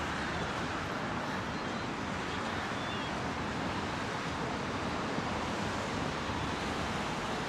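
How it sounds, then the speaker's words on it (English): Sudden heavy rain pours outdoors by Gravesend Bay in Bay Ridge, New York City, a dense, steady hiss of falling water that fills the whole stretch without letup, with no talk. "It's a pretty good rain all of a sudden."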